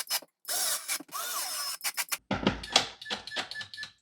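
A cordless drill whirs in short bursts while driving screws back into a plastic part of a Maytag 500 Series dishwasher, with ratcheting clicks between runs, close and fairly quiet.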